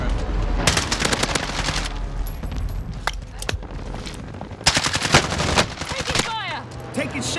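Automatic gunfire in the video game Warzone, rapid bursts of rattling shots in several clusters with a few heavier booms between, loud and close, while a player talks over it.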